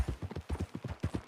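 Horse hooves in Red Dead Redemption 2 beat in a quick, even galloping rhythm, close and moderately loud, with no talk over them.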